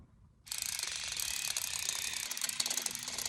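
An electric hair braiding device starts abruptly and runs with a steady, loud mechanical whirring and ratcheting buzz that continues unbroken to the end.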